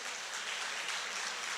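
A church congregation applauding during a sermon, a dense, even wash of hand clapping that holds steady and fairly soft throughout.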